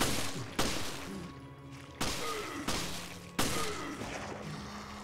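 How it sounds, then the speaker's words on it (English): Gunfire in the video game Resident Evil: Revelations, with four sharp, loud shots spaced about a second apart. Each shot is followed by a brief rumbling decay over low game ambience. "Okay, so we do shoot him in the arm."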